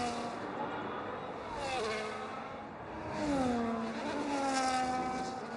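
A Ferrari F125 Formula One car races at the Chinese circuit in a racing video game. Its high engine whine climbs and drops through gear changes, steady and fairly close.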